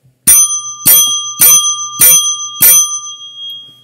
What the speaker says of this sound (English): The five bells